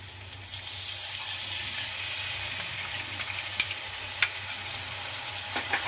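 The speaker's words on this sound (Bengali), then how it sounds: "এবার আমি দিয়ে দিচ্ছি বাটিতে যে মশলা পেস্টটা তৈরি করে রেখেছিলাম।" Spice paste for dohi potol (a vegetarian pointed-gourd curry) hits hot oil in a pan with a sudden loud sizzle, then keeps frying in a steady hiss. Scattered scraping clicks of stirring come through near the end, with no voices.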